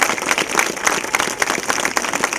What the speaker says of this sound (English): let's give the teachers all a big round of applause